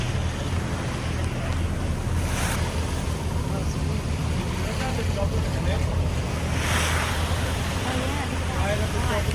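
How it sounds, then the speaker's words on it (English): Waves from the wake of a large yacht wash steadily near an island shore in Italy, with a continuous roar of surf and wind noise on the microphone, plus a couple of brighter splashing surges. "we have a few waves pulled by that big yacht over there"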